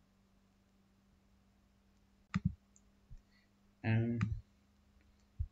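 A handful of sharp computer mouse clicks, in a pair and then singly, sound close in a quiet room, with a short burst of speech between them.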